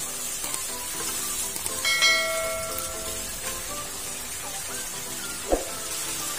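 Garlic frying in a spoonful of sesame oil in a pot for a one-pot chicken rice, giving a steady close sizzle with a faint metallic clink partway through.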